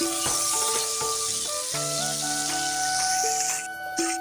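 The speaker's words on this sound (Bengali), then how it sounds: "পেঁয়াজ এটা ভাজা ভাজা হলে মশলা দিয়ে দিয়ে দেবো" Onions sizzle steadily in oil in a frying pan, a continuous close crackle alongside steady tonal sounds and no talking.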